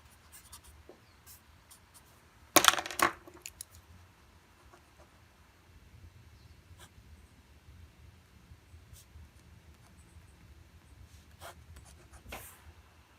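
Chalk or marker writing out an equation on a board in a physics lecture hall, a sharp scratchy burst of strokes early on followed by faint intermittent taps and rubs over a low room hum, with no talking.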